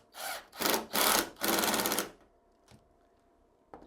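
A screw is driven into the Y-axis of a FoxAlien XE Ultra 8080 CNC machine, three rasping bursts of turning and grinding close by, then quiet with a couple of small clicks.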